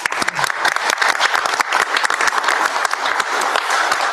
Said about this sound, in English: I think we should give them all a round of applause